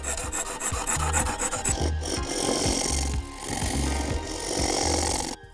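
A hand knife shaves a wooden Korean balwoo bowl, giving a continuous rasping, scraping sound with rapid rhythmic strokes close up, heard without speech.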